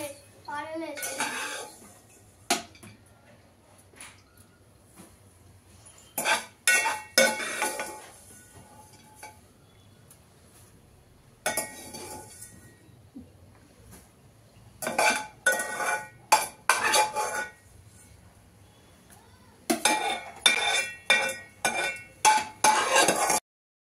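Vermicelli, milk and fried dry fruits are stirred in a pot for sheer kurma, with intermittent bursts of spoon clinks and scrapes against the metal between quieter pauses, and a voice heard faintly at times.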